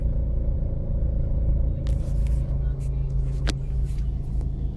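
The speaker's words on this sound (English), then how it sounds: "I would call this stop and go traffic, but it's actually stop and stop traffic" Steady low road rumble of stop-and-go morning commute traffic, constant engine drone from nearby cars with a few brief faint higher sounds and a sharp click partway through; no talking.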